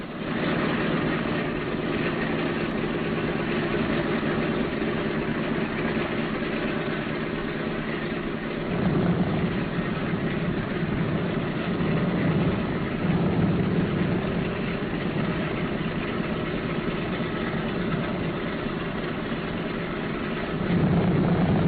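Four radial engines of a B-17 bomber run steadily on the ground during engine checks, a continuous loud droning rumble throughout with a slight rise in intensity about midway and again near the end.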